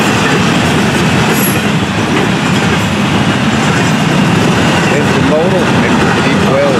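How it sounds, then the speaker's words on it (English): A Florida East Coast freight train of intermodal double-stack well cars rolls past close by, a loud continuous rumble and rattle of wagons on the rails with occasional wheel squeals. "We'll take a look at this train right now."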